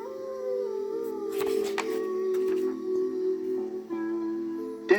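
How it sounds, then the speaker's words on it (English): Desert coyote howling: a long, steady, wavering howl held near and fairly quiet for several seconds, with brief higher yips and breaks toward the end. "At night, the coyote's lonely howl carries over the desert."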